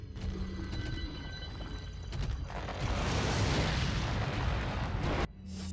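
An incendiary grenade in the 2005 Resident Evil 4 game bursts into a loud, broad roaring blast that rumbles and crackles for a couple of seconds before cutting off abruptly, with game ambience before and after.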